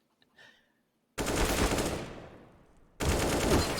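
Two loud bursts of automatic gunfire in a Counter-Strike match, the first sustained and tailing off, the second cutting in abruptly, close and dominant after a brief quiet start.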